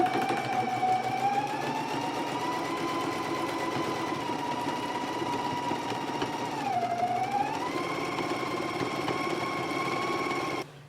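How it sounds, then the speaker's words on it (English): A sewing machine runs continuously while stitching a skirt side seam at a 5/8 inch allowance, a steady whirring hum with one brief dip in speed before stopping at the end. "we can go to the machine and stitch it at a 5/8 of an inch seam allowance"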